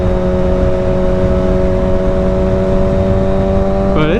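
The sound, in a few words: motorcycle engine revving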